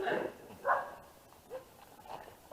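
Wolves at a wildlife center in Colorado give a few short yips and whines in bursts at moderate distance, with quiet gaps between them.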